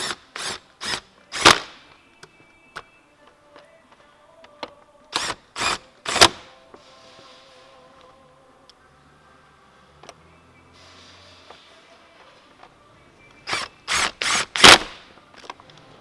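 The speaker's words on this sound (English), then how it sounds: "Grab your impact and go ahead and start putting this back in." An impact wrench reinstalling parts on a 2018 Honda CR-V during an air filter replacement, firing in sharp loud bursts of several rapid hits, with quiet pauses and faint clinks between groups.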